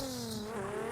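A drifting car transitions through a right turn, the e-brake pulled before throttle comes back on; a loud steady engine drone with rising harmonics and tire noise runs continuously through the short moment.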